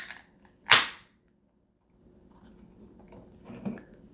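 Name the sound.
beer can being cracked open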